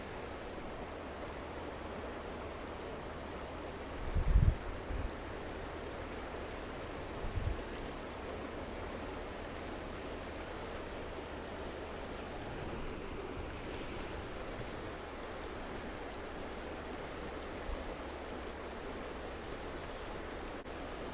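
River rapids rush in a steady, broad hiss of flowing water that holds an even level throughout, with a couple of faint knocks near the start.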